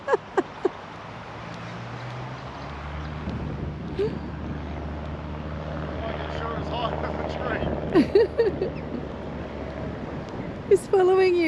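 A small DJI Mini 3 Pro drone flies on its maiden flight, its steady buzzing whine rising and shifting in pitch as it moves nearby, with people talking over it and a few sharp knocks.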